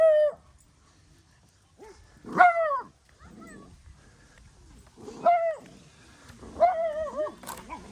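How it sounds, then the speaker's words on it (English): A little dog barks and yips in short, separate bursts, fairly close and loud, with whimpering rises between the barks and quiet pauses in between. "Oh, there's a little dog there."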